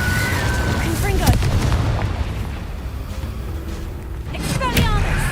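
Blasting-spell explosions in Hogwarts Legacy burst with sharp booms and crackling whooshes, two strong hits about three seconds apart over a dense rumbling bed, loud and close, with a voice speaking briefly.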